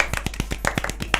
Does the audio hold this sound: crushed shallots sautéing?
no